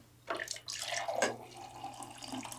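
Purified water from an AquaTru filter pours into a glass in a short splashing stream that rises quickly and then trails off into a softer trickle, close and clear with no talking.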